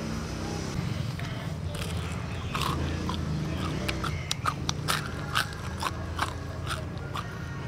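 Crunchy fried popcorn chicken, cooked KFC-style in a backyard, is bitten and chewed close to the microphone, with a run of crisp crackling crunches over a dense background hum.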